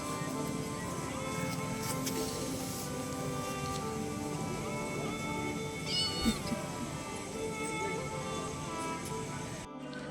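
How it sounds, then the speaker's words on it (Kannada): A kitten meows a few times over steady outdoor background noise after rain, fairly faint and intermittent. "ಇದನ್ನೆಲ್ಲ ಬೆಕ್ಕಿನ ಮರಿ ಕಾಣತಿತ್ತು"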